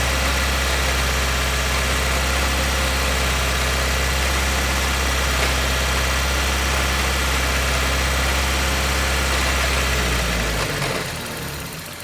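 A 1995 Geo Prizm engine runs loud and close while its throttle is worked, holding a steady, dense roar before dropping away near the end.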